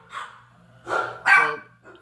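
A miniature pinscher barks three times at close range, sharp and fairly loud, with short gaps between the barks and a brief faint yip at the end.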